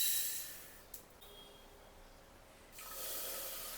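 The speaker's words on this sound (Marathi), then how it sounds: "थोडं पाणी घालून आपण हे स्वच्छ धुवून घेऊया" Water is poured into a pressure cooker to rinse moong dal, a soft, steady pouring that fades into a quiet pause and then resumes more strongly toward the end.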